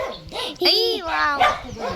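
A dog gives a couple of close yelping barks amid excited voices talking nearby.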